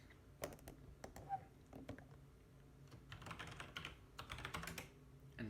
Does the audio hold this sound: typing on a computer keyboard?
yes